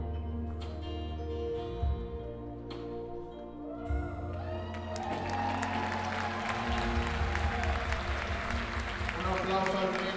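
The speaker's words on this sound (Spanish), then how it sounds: "aplauso al rey de reyes" Audience applause at a Catholic worship concert, building after a held musical tone and continuing as broad, steady clapping through the hall.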